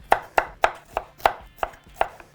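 A knife cuts through a broccoli piece on a board, making about eight crisp, evenly spaced chops that are close and sharp, with no one talking.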